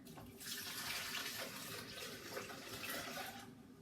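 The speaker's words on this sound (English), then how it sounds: "Add in the 4 cups of cold water." Four cups of cold water pour into a blender holding rolled oats, making a steady, continuous splashing rush that lasts a few seconds and then stops, with no talking.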